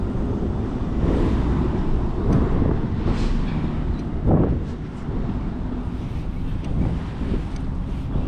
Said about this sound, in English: so it is a kind of a windy day